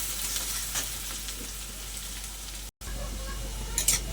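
Chopped green chilli and other ingredients frying together in a pan for a pointed gourd and prawn bharta, giving a continuous close sizzle with occasional stirring clatter and a brief dropout.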